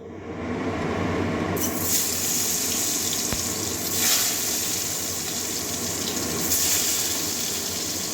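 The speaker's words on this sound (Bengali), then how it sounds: "এরকমই লাল লাল করে ভেজে নেব" Brinjal (eggplant) slices frying in oil give a dense, continuous hiss that holds steady throughout, with a few gentle swells in intensity and no voices.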